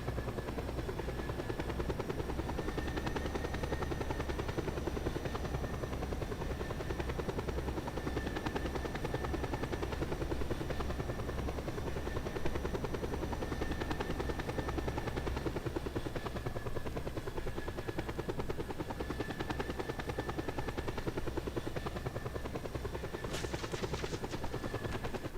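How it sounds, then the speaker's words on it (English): A helicopter flies in the video game Just Cause 2, its rotor chop and engine roar sounding continuously and loudly throughout with no talking. "And then we're going to use this helicopter to fly to the next location."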